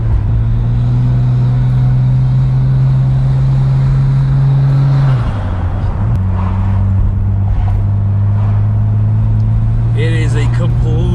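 A restored Nissan NISMO car drives a winding road of twisties leading toward an Autobahn, its engine droning steadily and loudly with a gear change midway, under faint talk inside the car.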